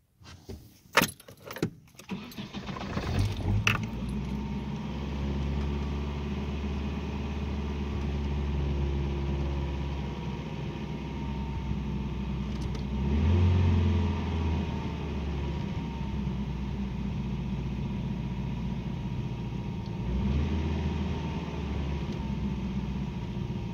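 A Nissan Silvia with a battery that had been flat starts after a few rattling clicks, then settles into a steady idle with one brief rev swell midway and another near the end.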